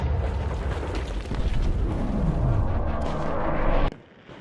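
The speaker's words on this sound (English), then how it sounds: "This is a 12 gauge M4 shotgun with double-aught buck." A 12 gauge M4 shotgun loaded with double-aught buckshot fires at a Tesla Cybertruck body, one loud sustained blast and roar that cuts off sharply near the end, with no talking.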